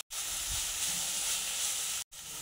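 Tomatoes frying in a pan while being stirred for a pizza topping, a steady close sizzle and hiss running unbroken apart from two brief gaps, with no talk.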